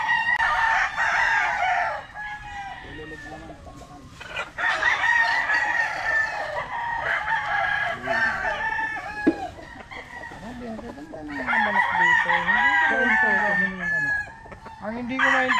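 Gamefowl roosters crow repeatedly on a Philippine gamefowl farm, several loud, close crows in bursts, with clucking between them and faint voices in the background.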